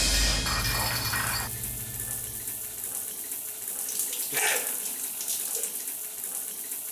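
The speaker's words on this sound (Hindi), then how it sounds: "ये अगर इसको घुमाएंगे तो शायद ठंडा पानी आएगा।" Cold water runs from a turned tap, a loud rushing gush at first that settles into a softer steady trickle, with a brief splashy burst midway and no talk.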